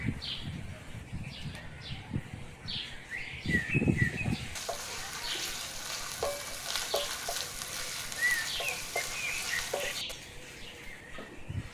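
Garlic frying in oil, then ginger paste added, produces a quiet sizzle that swells into a fuller, steady hiss partway through, with birds chirping faintly in the background.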